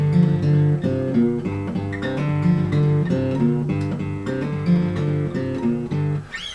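An electric guitar plays the main riff of a song, a repeating rhythmic figure of bright chords and notes, clear and close with no talking.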